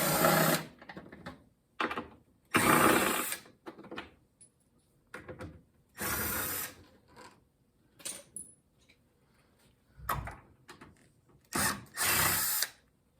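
An impact wrench spins bolts off a Sole F63/F65 treadmill in short, loud bursts about a dozen times, separated by quiet gaps and small metallic clicks and handling noises.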